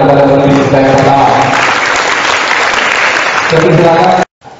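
An audience applauds at a university discussion event, with steady, loud clapping from a crowd that fills the room for about four seconds before stopping abruptly.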